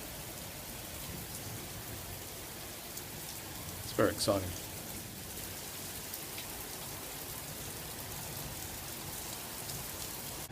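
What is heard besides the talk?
heavy rain with thunder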